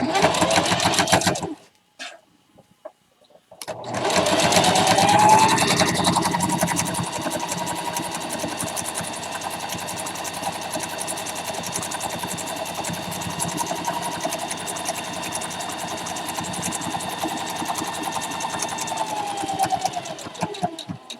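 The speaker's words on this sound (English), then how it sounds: "so now I'm just going to pivot this and turn it and just sew back down the other side" A sewing machine runs steadily while stitching an egg gathering apron, a continuous close whirring hum after a brief pause and start, with the motor buzzing evenly for most of the stretch.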